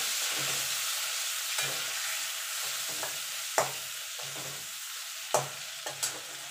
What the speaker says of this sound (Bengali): হলুদ গুঁড়ো দিয়ে ভালো করে নেড়ে চেড়ে নেব